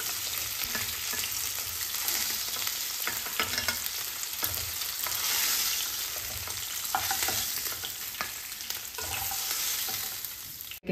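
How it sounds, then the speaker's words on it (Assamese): Fish frying in hot oil in a pan, then lifted out: a continuous dense sizzle and crackle throughout, with occasional scrapes and clatters of a utensil, close and loud. "ফ্ৰাই হৈ গৈছে এতিয়া কাঢ়ি লৈছোঁ ইয়াতে"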